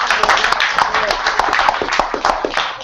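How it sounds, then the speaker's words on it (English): Applause from a hip-hop townhall audience, a dense patter of many hands clapping steadily and close by for about three seconds, with no pauses. "You guys need to give her a round of applause"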